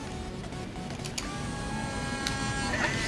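A Polaroid instant camera ejects a freshly taken photo with a continuous mechanical whirring buzz lasting about three seconds, close and steady.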